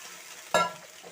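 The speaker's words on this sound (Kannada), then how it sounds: "ಇವಾಗ ಇದಕ್ಕೆ ನಾವು ಮೊದಲೇ ನೆನೆ ಹಾಕಿಟ್ಟಿದ್ವಲ್ಲ ಹುಣಸೆಹಣ್ಣು, ಅದನ್ನೆಲ್ಲ ಕಿವುಚಿ ತೆಗೆದು ರಸನ ಇವಾಗ ಇದಕ್ಕೆ ಸೇರಿಸ್ಕೊಳ್ತಾ ಇದ್ದೀನಿ." Tamarind juice poured into a pan of frying capsicum for capsicum vangibath, giving one sudden loud sizzling splash that quickly settles into a softer steady frying hiss, with no voices.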